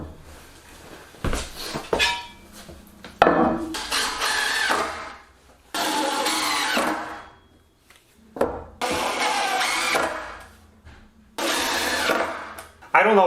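A power drill bores an oversized hole into a wooden butcher block countertop in about five loud, whirring bursts, each lasting one to two seconds and separated by short quiet gaps.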